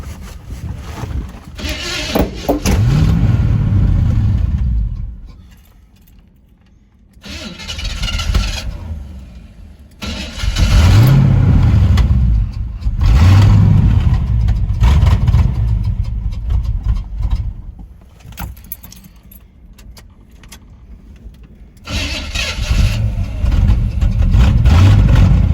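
Square body truck stalled by the roadside after a breakdown, engine cranking in repeated bursts then catching and running rough, loud and close with gaps of quiet between attempts.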